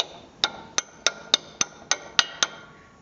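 Eight sharp metallic taps at a steady, slightly uneven pace, close and ringing briefly, as a front shock absorber clip on a 1990-2002 Infiniti G20/Nissan Primera is knocked into place.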